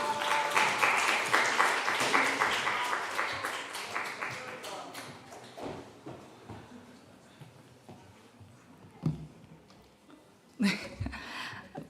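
A church youth service audience applauds as a member comes up to make an announcement, loud clapping from a crowd that fades over several seconds into scattered taps, shuffling and murmured voices.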